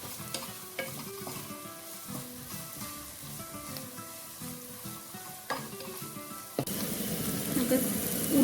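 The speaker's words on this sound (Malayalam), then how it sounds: "ഇനി നമുക്ക് പച്ചമുളക് ഇട്ട് കൊടുക്കാം. കുറച്ച് കറിവേപ്പില ഇത്രയും ചേർത്ത് നന്നായിട്ടൊന്ന് വഴറ്റി കൊടുക്കാം" Green chilies and curry leaves sizzle in hot oil while being sautéed for chicken curry, with steady stirring over a tonal background, swelling into a louder, hissing burst of frying near the end.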